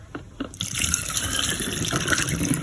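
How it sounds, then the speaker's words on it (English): Water poured from a container into a hair oil mixture to top it up, a steady close trickling and filling sound after a few soft knocks, continuing evenly without speech. "So the next thing I will do now is to top with water."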